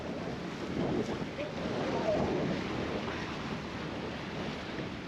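A small holiday boat motors out of a lock into salt water near Den Helder, its steady engine rumble and water wash mixed with constant wind buffeting the microphone, with no talking.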